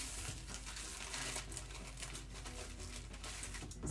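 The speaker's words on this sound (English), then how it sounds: "don't use your fabric scissors to cut a trash bag" Old fabric scissors slicing through a plastic trash bag, a steady run of close, crisp crinkling and rustling with dense snipping texture throughout, loud and without speech.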